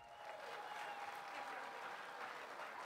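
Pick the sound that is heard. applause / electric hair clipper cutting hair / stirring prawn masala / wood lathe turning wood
applause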